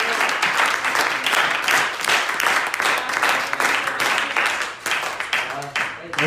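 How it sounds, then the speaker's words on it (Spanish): Loud, sustained applause from a church congregation during a sermon, a thick wash of clapping that continues steadily, with a few voices mixed in. "Denle un aplauso al Señor"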